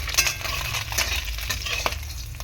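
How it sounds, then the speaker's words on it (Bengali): Small fish sizzle in a pan of oil, a close and steady fry broken by a few scraping clicks as the pieces are turned over. "দেখো মাছটা উল্টে পাল্টে ভালো করে ভেজে নিচ্ছি আমি।"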